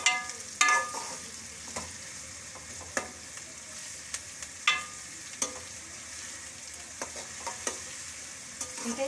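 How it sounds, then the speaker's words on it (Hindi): Onions frying lightly in a pan for green pea chutney: a steady close sizzle broken by repeated scraping stirs at uneven intervals, with no talking. "प्याज को हम ज़्यादा नहीं पकाएंगे, थोड़ा सा पकाएंगे, बस ये थोड़ा गुलाबी हो जाए तब तक।"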